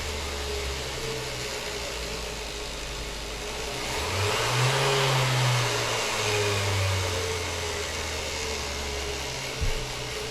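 A Menards 3-inch grinder whirs close by, its motor pitch rising midway as the speed is turned up, then settling lower again before a brief click near the end.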